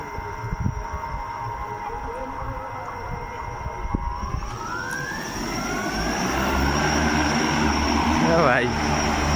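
Agricultural spraying drone flying over farm fields, its rotors giving a steady droning whine that rises in pitch and grows louder as it lifts off and passes. Voices talk underneath the engine noise.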